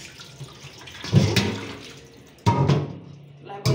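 Pork ribs are rinsed by hand in water with a splash of vinegar, producing irregular sloshing and splashing bursts, a few sharper surges standing out over quieter trickling.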